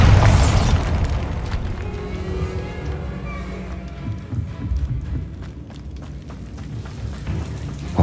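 A Bombarda blasting spell going off in Hogwarts Legacy opens with a loud, deep boom that fades into a low rumbling tail and ambient game noise, followed by a smaller burst at the very end.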